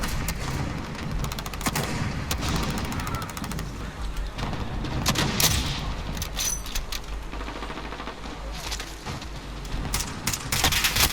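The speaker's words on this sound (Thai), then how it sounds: "แม่ยิงปืนกลแม่นมากเลยวะ" Machine gun fire from the video game Call of Duty Warzone, with rapid bursts of shots cracking repeatedly over a steady background of battle noise for several seconds.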